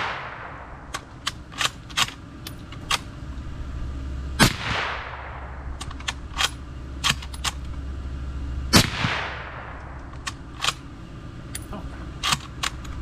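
Suppressed Mosin-Nagant 91/30 rifle fitted with an Aero Precision Lahar-30L silencer, fired outdoors: sharp thumping reports and bolt clatter, with a couple of louder shots trailing off in decaying whooshes and many short metallic clicks between them.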